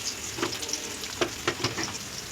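Onions frying in ghee crackle and sizzle steadily in a hot pan close up, with occasional scraping stir sounds popping out over the continuous hiss.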